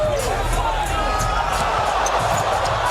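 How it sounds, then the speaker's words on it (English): Basketball arena crowd at a Houston versus San Antonio NBA game roars steadily and loudly throughout, a dense wall of cheering with scattered shouts and a commentator's voice layered over it. "The crowd loves it. Crowd loves it even better."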